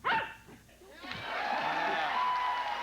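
A dog bark sound effect rings out sharply once, then a loud studio audience cheers and applauds on a talk show, with whistles and shouting carrying on steadily.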